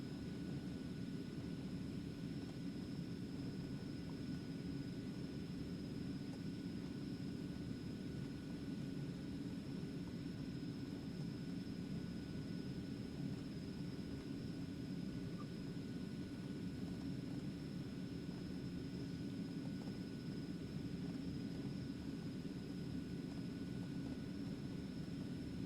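A light aircraft's engine drones steadily through cruise flight over mountains, a constant loud cockpit hum with faint steady tones and no break, heard with no speech.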